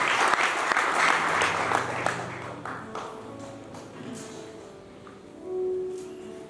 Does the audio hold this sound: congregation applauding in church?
yes